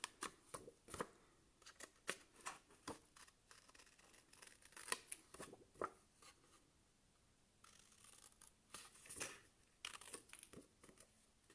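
Scissors cut through material close by at a craft table, giving a run of short irregular snips and crinkles, soft and intimate, with brief pauses between bursts.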